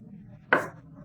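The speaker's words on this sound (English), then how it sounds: "Chop it very finely into small pieces." A single sharp knife chop through raw liver on a cutting board, a brief crisp strike standing out close and clear against a quiet kitchen background.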